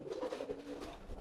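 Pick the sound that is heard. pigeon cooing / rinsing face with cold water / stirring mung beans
pigeon cooing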